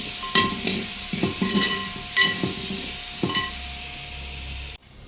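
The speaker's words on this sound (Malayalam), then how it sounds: "അതോടൊപ്പം തന്നെ തക്കാളി നമുക്ക് ഇതിലേക്ക് ഇട്ട് കൊടുക്കുക. നന്നായിട്ട് ഇളക്കുക." Tomatoes are stirred into frying onions in a pan for chicken curry, giving repeated scraping strokes over a steady background sizzle, close and moderately loud, ending abruptly.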